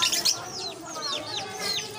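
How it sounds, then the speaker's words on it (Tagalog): A Chinese chicken with reversed feathers clucks nearby in a short run of quick, rising-falling calls over faint background murmur. "Ang tawag sa ganitong manok? Chinese chicken."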